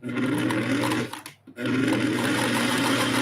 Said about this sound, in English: I'm going to back stitch it.